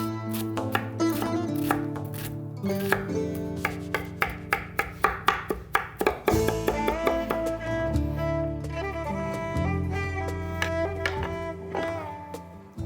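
A knife chops onions on a cutting board in quick, steady, close-up knocks, running in fast bursts with a denser flurry midway, while music plays underneath.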